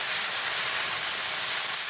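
Leafy greens hit hot oil with black cumin and give off a steady, dense, close sizzle for about two seconds, with no talk.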